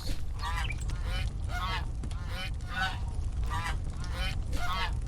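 A goose in a video game honks in a steady series of about eight loud, rhythmic calls over constant background noise.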